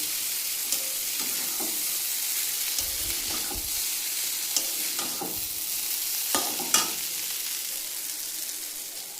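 Chicken chow mein with tomato sauce being tossed in a hot pan, a continuous bright sizzle with intermittent scraping stirs and a few clanks, close by with no voices.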